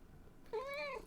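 A kitten lets out a single drawn-out meow, close and fairly loud, in a quiet indoor room with no talking.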